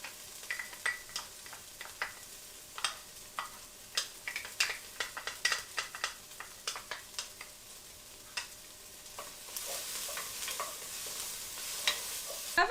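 Garlic is stirred in a pan with browned bits for a chicken chili, giving quiet, intermittent spoon scrapes and clicks over a faint sizzle that swells louder toward the end, with no talking.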